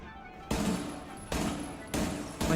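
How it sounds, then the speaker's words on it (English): Gun bursts in Rainbow Six Siege, four sharp blasts, each followed by a rumbling decay, spaced unevenly across a couple of seconds. "So like I'm aiming here, and I start shooting"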